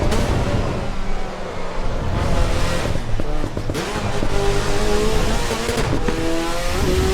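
An engine roars and revs in a car racing through Assetto Corsa Evo. The pitch rises and falls through several quick gear changes, loud and unbroken throughout.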